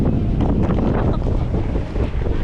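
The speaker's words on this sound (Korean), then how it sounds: "와 바람 봐 미쳤어." Strong wind blows at sea during a boat crossing between Bodrum and Kos, a loud, gusty roar buffeting the microphone with rumbling low noise throughout, no speech.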